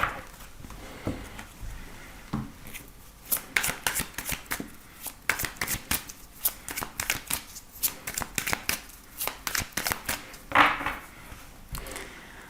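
Tarot cards shuffled over and over in a daily card reading, a close run of crisp riffling and slapping bursts with uneven pauses and no talking.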